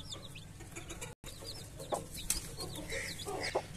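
Hen clucking near a farm coop where newly hatched chicks are kept, short clucks scattered over a steady low background hum, with no one talking.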